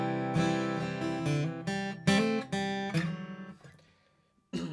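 Acoustic guitar strums and picked notes shifting between two chords with small decorative runs, played alone, ringing out and fading before one last strum.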